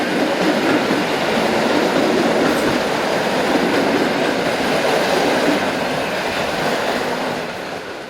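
Polish electric multiple unit EN71, built in 1976, passing on the busy Katowice–Kraków line: a loud, continuous close-range rumble and rush of wheels and carriages that holds steady, then eases slightly as the train moves away.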